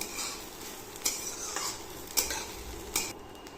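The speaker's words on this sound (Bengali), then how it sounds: "গাজরটাকে একটু ভালো করে একটু মিশিয়ে নিয়ে ভেজে নিচ্ছি" Grated carrot is stirred and fried with a pinch of salt in a pan for carrot halwa. A soft, steady sizzle runs throughout, and a spoon scrapes sharply about three times at spaced intervals.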